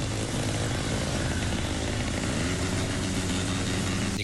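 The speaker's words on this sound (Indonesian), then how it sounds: "Dengan menggunakan knalpot brong, mereka berputar-putar di sekitar alun-alun sehingga mengganggu pengguna jalan lainnya." Motorcycle convoy in Sidoarjo with loud modified brong exhausts, a dense continuous roar of several engines blaring together close by, loud throughout with no pauses.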